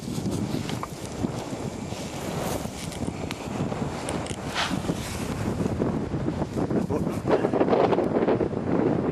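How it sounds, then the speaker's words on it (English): Strong wind buffets the microphone outdoors while metal detecting in the UK, continuous rumbling gusts that swell slightly toward the end. No voices. "The wind's blowing the camera out my hand"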